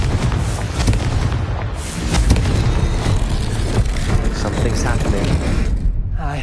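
A blasting-curse explosion goes off in Hogwarts Legacy, a loud, heavy booming blast followed by rumbling, crackling debris that stays dense and powerful before cutting off near the end.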